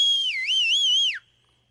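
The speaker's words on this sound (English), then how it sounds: "She put 2 fingers to her mouth and whistled very, very loudly." A single loud, piercing two-finger whistle, close and sustained for about a second with a wavering pitch that dips sharply at the end before cutting off into near silence.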